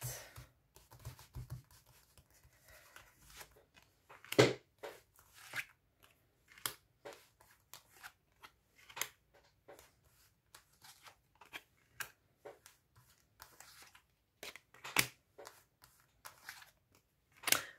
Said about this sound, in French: Allez, j'étale les cartes.